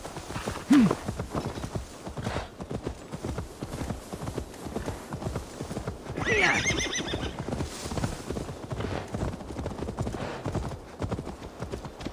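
A horse in the Assassin's Creed Valhalla video game clops along with steady, fairly close hoofbeats, giving one sharp neigh early on and a brief snort or whinny midway over faint ambient sound.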